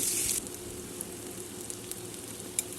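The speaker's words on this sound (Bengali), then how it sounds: "তেজপাতা এবং ছোটো এলাচ দিয়ে একটু নাড়াচাড়া করব।" Bay leaves and green cardamom sizzle in hot oil with cumin seeds, a steady close crackling hiss that opens with a brief louder burst and carries faint scattered pops, with no voices.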